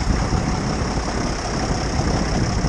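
A Case 1394 diesel tractor engine idles steadily and loudly close by, giving a continuous low rumble with no voices.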